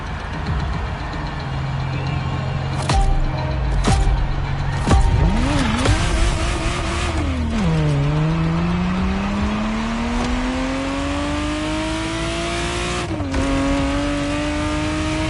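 A Ferrari Testarossa engine driven in a video game, revving up and down through gear shifts with sweeping pitch changes and occasional tire squeal, loud and steady throughout.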